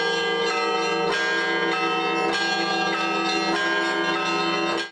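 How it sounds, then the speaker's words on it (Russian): Several church bells at an Orthodox cathedral in Bishkek ring together in a loud, layered peal, with strikes repeating in a steady rhythm and long ringing tones overlapping. "Опытные звонари ловко управляют колоколами."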